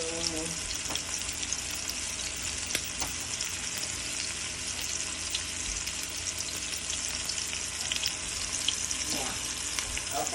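Loud, constant sizzling of food frying in a pan, with occasional clinks and stirring sounds throughout.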